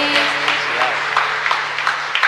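A church congregation at Mass applauds in a steady, moderately loud wash of clapping, with a sustained tone and some voices beneath it.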